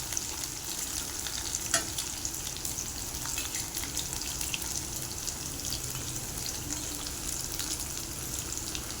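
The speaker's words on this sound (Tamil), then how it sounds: "சுண்டைக்காய் கொஞ்சம் நேரம் எண்ணெயிலே ஃப்ரை ஆகணும்." Turkey berries (sundakkai) fry in oil with garlic, giving a steady, close, dense sizzle and crackle that runs unbroken throughout with no talking.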